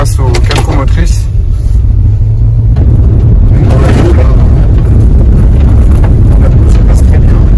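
A Jeep hybrid 4x4 rolls along a dirt road with a loud, steady rumble of tyres and engine, heavy wind buffeting against the microphone, and a voice speaking inside the cabin.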